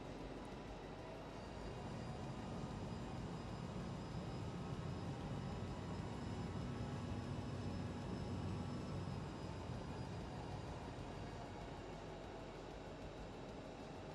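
An airliner taxiing in a flight simulator, heard as a steady, faint engine whine and hum with a constant drone and tonal lines, unbroken for the whole stretch.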